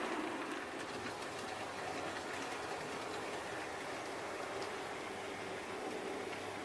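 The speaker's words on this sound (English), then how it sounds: "it's coming in there to pass the goods train that came in off the other" A model railway goods train runs along the track in a loft layout, giving a faint, steady rolling hiss with no talking.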